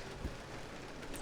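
Rain falls steadily in Resident Evil 0, a faint even hiss of drops with no voices over it.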